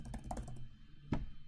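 A few quick keyboard taps clatter close by, followed after a short pause by one sharper keystroke.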